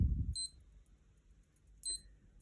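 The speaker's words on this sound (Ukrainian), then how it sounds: "Також є будильник." Two short bursts of high-pitched electronic beeping from a Skmei 1155 digital watch alarm, separated by a pause, close by and otherwise quiet after a brief low rumble.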